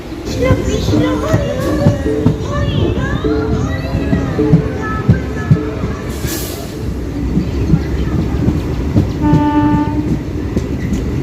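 A passenger train departing Shantipur Junction rumbles and clatters close by, with a horn sounding near the end and children's voices and chatter over the noise.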